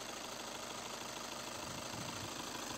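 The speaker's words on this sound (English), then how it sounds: "I've started the engine, and so far we don't have any trouble codes." A car engine idles steadily just after starting, giving a constant, even hum and rumble with no voices over it.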